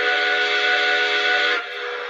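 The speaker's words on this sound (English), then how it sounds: "So let's switch back to the whistle." A model train's steam whistle blows one long, loud, steady chord of several tones, then dips slightly in level near the end as it keeps sounding, close by with no talking.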